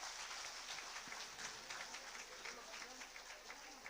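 Applause from an audience at a government ceremony in Jharkhand, where anganwadi workers receive smartphones: dense, steady crowd clapping that carries through the whole stretch at moderate level, with no voices on top.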